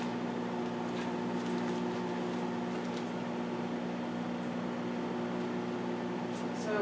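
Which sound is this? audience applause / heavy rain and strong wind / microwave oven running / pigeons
microwave oven running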